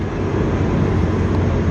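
A Ferrari 308 engine from an abandoned car under restoration runs at a steady, slightly raised idle that needs a tune-up. It makes a continuous, fairly loud rumble with no talk.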